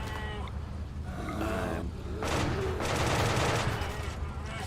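Tank fire in RimWorld, a sustained rumbling barrage of shots with heavy low-end thuds rising in intensity toward the middle and staying loud to the end.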